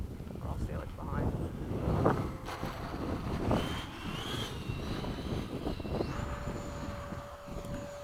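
An FMS 80mm Hawk RC jet doing a touch and go at a flying field whines with a rising and falling turbine tone, with wind rumble against the microphone and people talking nearby.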